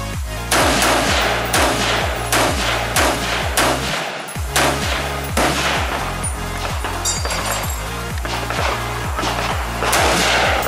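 Rapid repeated gunshots at an outdoor gun range, loud sharp cracks in a steady rhythm with a brief pause midway before firing resumes.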